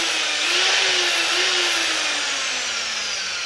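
A 680-watt electric drill runs continuously at close range, a loud steady whine that dips slightly in pitch partway through and then winds on, with no talking.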